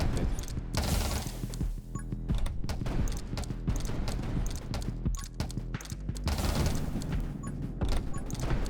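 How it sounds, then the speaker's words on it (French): Explosive bullets fire in rapid bursts in the video game 20 Minutes Till Dawn, loud crackling volleys with dense game music and effects, no talk heard. "c'est quand même des balles explosives qui tirent"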